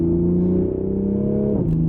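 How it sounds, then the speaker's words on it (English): A 2020 Toyota Supra in sport mode drones steadily, with a gear change near the end and a brief crackle of exhaust pops. "you got those pops on the exhaust there in sport mode"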